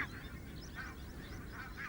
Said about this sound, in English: Barnacle geese mow their way across a field on the RSPB reserve